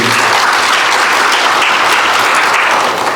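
A church congregation bursts into dense, steady applause, loud and close, filling the space for a few seconds without any talk.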